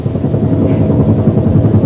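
A helicopter in a mid-1980s soap opera scene, a loud, steady, low rotor throb with rapid chopping pulses that continues unbroken throughout.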